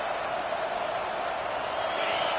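Stadium crowd noise in the College Football 26 video game, a dense, steady roar of many voices holding at a constant loud level for the whole stretch, with no distinct talking.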